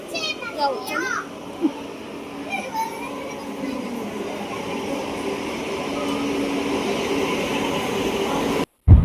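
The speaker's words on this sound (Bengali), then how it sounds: "দীঘা থেকে পুরী ট্রেনটা যাচ্ছে" A Digha to Puri passenger train passes with a low rumble that swells steadily louder, while children chatter and call out over it early on.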